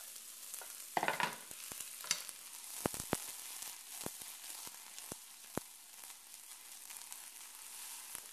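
Onion dropped into hot olive oil fries in a pan with a steady broad sizzle, broken by a burst of crackling early on and scattered sharp pops and spatters throughout, close and moderately loud.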